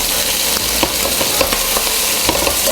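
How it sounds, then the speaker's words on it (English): Sausage lengths frying in their own oil, a loud close crackling sizzle with periodic sharp pops and spatters throughout. "you can hear the oil from the sausage, and the frying is now occurring"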